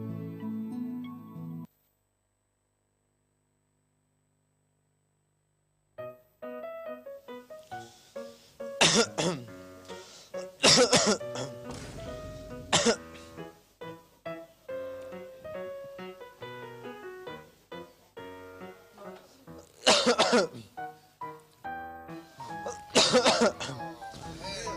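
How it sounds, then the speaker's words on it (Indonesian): A person coughs repeatedly in sharp, harsh bursts with some throat clearing, loud and close, in scattered clusters after a short silence, mixed with other busy background sound. "kalau batuk ditutupin dong"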